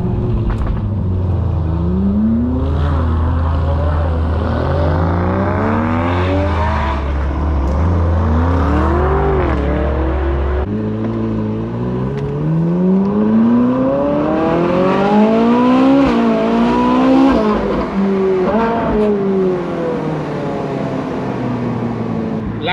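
A convoy of high-end supercars roars along Cotswolds roads toward Broadway, engines revving hard through repeated rising gear pulls, loud and close, with a clear shift partway through and the drone continuing unbroken.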